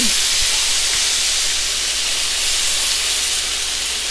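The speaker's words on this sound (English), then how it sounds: "I'm gonna put my patties on, and I'm going to smash them" Smash burger patties sizzle on a hot cooking surface beside a blooming onion, a steady, loud, hissing fry with no clear breaks or talk.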